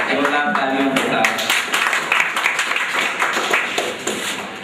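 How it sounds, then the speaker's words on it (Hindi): Audience clapping at an art exhibition event at Jehangir Art Gallery, crisp claps rising in a ragged burst after a voice speaks briefly at the start, filling the rest of the moment with uneven, close-sounding hand strikes. "जोरदार तालियों के साथ"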